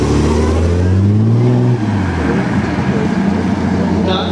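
A 1966 six-cylinder classic car with a 2912 cc, 150 PS engine pulls away at a vintage car rally, its engine note rising in pitch and then settling into a steady rumble, loud and close with a voice partly over it.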